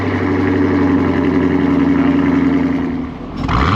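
A Camaro LT1 with a Corsa Extreme exhaust and secondary cats deleted revs hard up close, a loud sustained engine roar that drops briefly near the end before climbing again.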